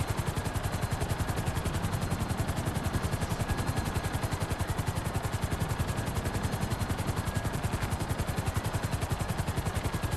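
A helicopter flying in GTA 5, with loud, rapid, perfectly regular rotor chopping that continues unbroken and close throughout.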